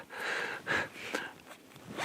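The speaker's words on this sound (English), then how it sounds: "and open these zippers, and I have access to everything in my backpack" Zippers on a hiking backpack being pulled open to reach the inside, a few quick rasping runs close by with no talk.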